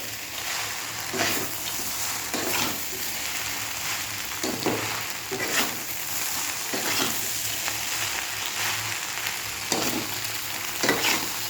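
Mixed vegetables stir-fry in a hot pan for chow mein. A steady, loud sizzle runs throughout, with periodic scraping stirs every second or so.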